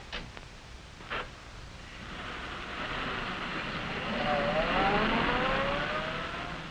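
A 1950 car being driven: a steady engine drone that gradually swells and rises in pitch as it accelerates, heard from inside the car, with a brief thump early on.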